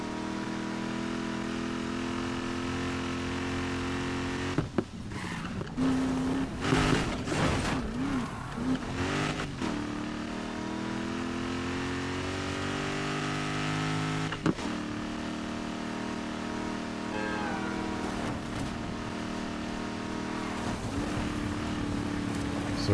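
A car in Need for Speed Heat drives up into the mountains, its engine holding a steady drone that rises and falls with revs and gear shifts, loud and close throughout.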